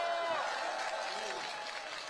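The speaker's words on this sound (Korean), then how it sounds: "큰 박수 부탁드립니다" A crowd at an outdoor election campaign rally in Seodaemun applauds as a speaker is introduced, a dense clapping that slowly tapers off, with a voice faintly audible underneath.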